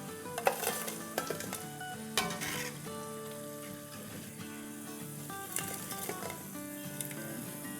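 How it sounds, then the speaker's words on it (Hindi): Pakoras sizzle and crackle in hot oil while a utensil stirs them, with scattered clinks against the pan over a steady frying hiss. "ये लास्ट भी हमारा जा रहा है और बस इसी तरह से 1 मिनट के आसपास के बाद हिलाएंगे"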